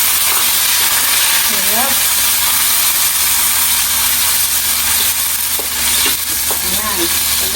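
Garlic and onion frying in a pan, a loud, constant sizzling hiss close up, with a voice speaking briefly over it and a few faint squeaks.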